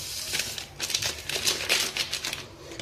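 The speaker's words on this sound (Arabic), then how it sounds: "نفرغ 2 كيس" Powdered chocolate flan mix, two 100-gram sachets, is emptied into a pan, giving a run of close, dry crinkling, rustling and pouring hiss bursts over about three seconds, with no talk.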